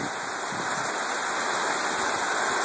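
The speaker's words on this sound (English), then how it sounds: "it's raining pretty good right now" Heavy rain from Hurricane Irene, falling in New Hampshire near a carport, makes a dense, steady roar of hiss and patter with no talking.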